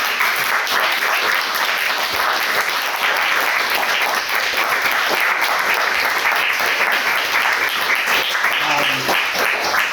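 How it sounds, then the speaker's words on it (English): A seminar audience gives a final round of applause for Chris, loud dense clapping that holds steady for the full stretch, close and continuous with a few sharper claps and faint voices near the end. "I want to have one last round of applause for Chris"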